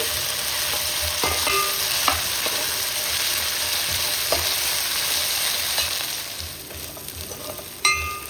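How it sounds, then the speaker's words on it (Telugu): Ginger garlic paste frying in oil in a pan while being stirred, a continuous sizzle broken by scattered clicks and scrapes of a spoon against the pan, close and alone without speech. "ఇప్పుడు ఈ అల్లం వెల్లుల్లి పచ్చివాసన పొందేలాగా వేయించుకోవాలి."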